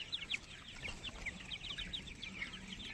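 Young tiger chickens, about 25 days old, give repeated high chirping peeps over a soft background rustle, several birds calling in quick scattered bursts at moderate distance.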